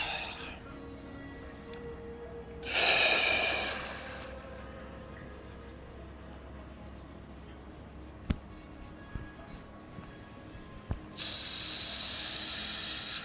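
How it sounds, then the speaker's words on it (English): Two strong breathwork inhales drawn through tightly rounded O-shaped lips make a loud, airy hiss. The first lasts about a second and a half and the second begins near the end, with quiet room tone between. "Same breathing principle, strong O-shaped lips, inhale"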